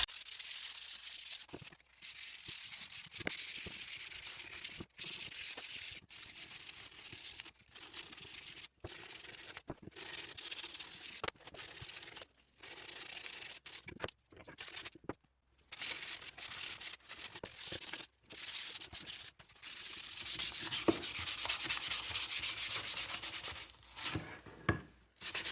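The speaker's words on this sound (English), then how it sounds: "So we're gonna sand it down." Steady rasping of sandpaper rubbed back and forth by hand over a wooden Remington Model 370 gun stock, continuous with brief pauses, close by and fairly loud, no talking.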